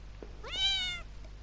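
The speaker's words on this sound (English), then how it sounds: "That was a cat." A single plaintive cat meow, clear and drawn out for about half a second, sounds in the Home horror adventure game over a faint low hum.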